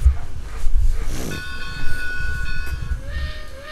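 A toy train runs at a child's sixth birthday party, giving a brief whistle-like tone and a rising toot over a busy, clattering room with mechanical rumble.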